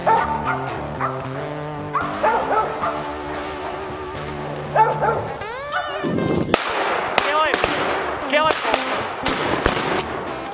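Squirrel-hunting dogs in the woods barking and yipping at a treed squirrel, several dogs giving repeated excited barks and whimpers close by, with a burst of rapid yelps near the end and some talk among hunters.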